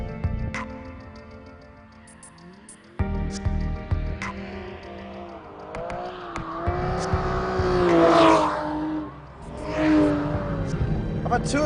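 A high-revving car engine that pulls strongly from 3,000 RPM and revs out to 7,000, rising and falling in pitch through several surges, loud and close, with someone talking over much of it.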